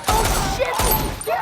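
Two heavy, booming gunshots about a second apart in a Netflix film, each with a dull reverberant thud, set against a dramatic film soundtrack.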